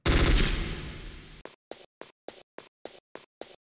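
Gunfire in the video game Metal Gear Solid, beginning with a loud, decaying blast and followed by eight sharp, evenly spaced single shots that ring out clearly with no talk over them.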